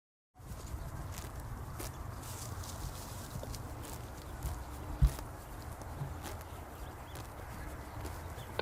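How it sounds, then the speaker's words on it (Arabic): Horse-eating-grass sound effect: a steady, close texture of soft rustling and munching, with faint irregular thuds and one sharper knock partway through, continuing evenly for several seconds. "طبعا هنا ده هورس ايتينج جريس، دي يعني في حصان بياكل"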